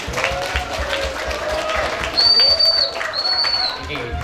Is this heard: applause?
yes